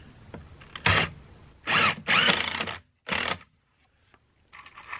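Power drill driving 2 to 2.5-inch screws into a joist hanger for a center stair support, three or four loud whirring bursts of about half a second each with short pauses between, then quiet.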